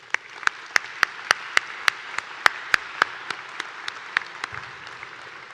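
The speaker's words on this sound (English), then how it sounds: "please give them one more round of applause" Applause at a college spring convocation ceremony for a drumming group, a few distinct loud claps rising above a soft clapping crowd before it thins out.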